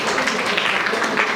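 Audience applause for Siraj at a government LP school's anniversary celebration and parent-teacher day in Vadakkanchery, a steady dense patter of many hands filling the whole moment.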